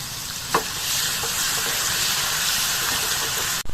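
Garlic paste sizzles and fries in hot oil with browned onions, a steady close hiss with a brief stir clatter near the start and a knock at the end.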